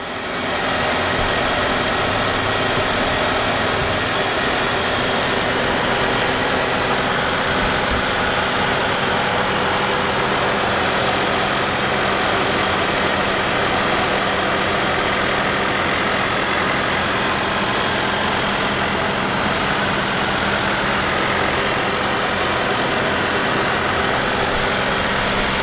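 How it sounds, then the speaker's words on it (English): A 2018 Volkswagen Golf with a 4-cylinder engine idles steadily and a little noisily, a continuous close rumble with a constant hum that holds at the same level throughout, with no one talking. "You can definitely hear it running. Again, it's a 4-cylinder. It's a little noisy, but that's okay."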